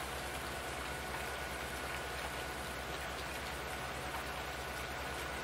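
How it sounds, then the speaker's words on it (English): Steady rain falling continuously over farmland in the Susquehanna River Valley, an even, dense hiss of drops with no voices. "It started raining about,"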